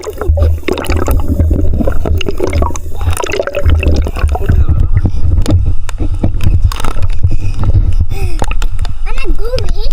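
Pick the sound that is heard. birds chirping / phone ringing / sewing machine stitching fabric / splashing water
splashing water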